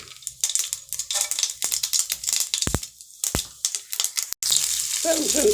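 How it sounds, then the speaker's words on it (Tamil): Mustard seeds, black pepper and cumin crackle and splutter in hot oil, a steady run of small pops and sizzles close by, with a couple of sharper bursts and a louder hiss near the end. "இப்போ நம்ம மிளகு, சீரகம், கடுகு எல்லாம் கொஞ்சம் நல்லா பொரிஞ்சு வச்சு"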